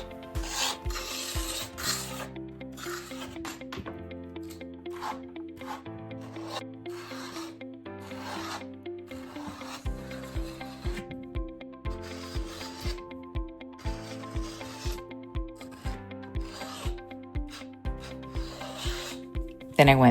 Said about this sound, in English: I switched to a different scraper and used a few different blades to get into all those